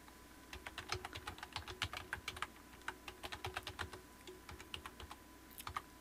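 Someone types a username and password on a computer keyboard at a Debian 12 login screen, producing quiet, close, irregular key clicks over a faint steady hum.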